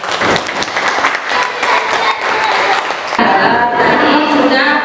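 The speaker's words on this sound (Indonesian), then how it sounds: "Pagi, tepuk tangan dong." Students give a burst of applause in a classroom after a group presentation, dense clapping from many hands that continues throughout, with a voice rising above it near the end.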